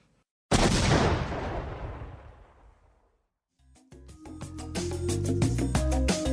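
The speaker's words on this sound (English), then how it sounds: "Love hearing that explosion." A loud, deep blast erupts and rumbles away over a few seconds, then a clattering, crackling burst of booms follows.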